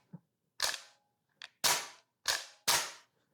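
A gas blowback airsoft pistol loaded with a Nuprol magazine fires four sharp, loud pops in two quick pairs, each a short crack with a snappy decay, plus lighter mechanical clicks between them.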